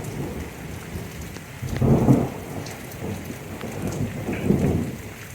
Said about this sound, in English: the thunder's actually making the doors and windows rattle